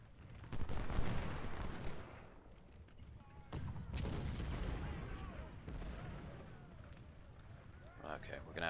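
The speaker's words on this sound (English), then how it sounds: "Let the artillery work them over." Artillery fire in a strategy video game, distant booms and sharp gunfire cracks scattered through a battle soundscape, with someone talking over much of it.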